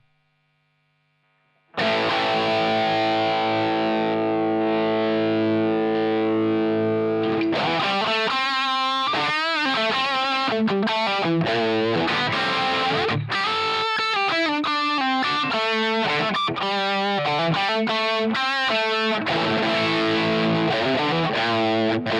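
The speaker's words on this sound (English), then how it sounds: "we'll add a Super Overdrive" Electric guitar played through a Super Overdrive pedal model set with drive down and level up, opening on a long sustained chord, then a busy run of picked notes and chords, loud and alone.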